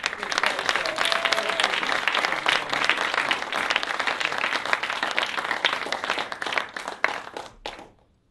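Audience applause for Brian Carter's jazz trio at a jazz workshop, a dense, loud burst of many hands clapping that holds steady for about seven seconds before tapering off into silence.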